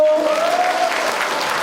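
An audience at a TBC Daegu popular-song academy performance claps steadily, a dense, even patter that holds throughout, with a brief voice or tone fading in the first second.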